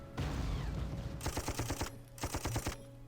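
Machine gun bursts from the Panzer Corps strategy game: two rapid rattling volleys of sharp shots, separated by a short gap and preceded by a dense rumbling barrage, loud and close with no talk.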